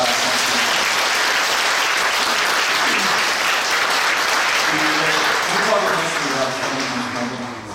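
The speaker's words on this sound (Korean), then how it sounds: "다 같이 박수하겠습니다." Church congregation applauding at a Korean Holiness church service honoring a retiring senior pastor, a dense steady wash of clapping filling the hall, with some faint voices and tones underneath before it tapers at the end.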